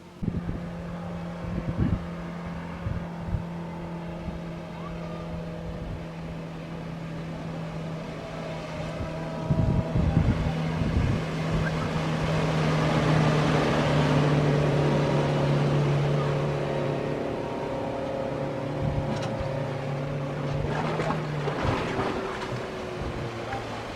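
A speedboat engine drones steadily across open water on Kakkayam Dam reservoir, a low persistent hum with wind and splashing rising and falling over it.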